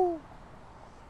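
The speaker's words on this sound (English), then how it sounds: "But the unexpected sounds living inside. Bird calls." A brief recorded owl hoot played from a street payphone's bird-call feature, a single short tonal call at the very start that fades quickly into quiet outdoor ambience.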